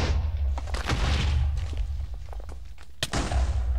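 Video game explosions boom and thud repeatedly in a dense, loud barrage, with rumbling low end and sharp blasts spread across the whole stretch.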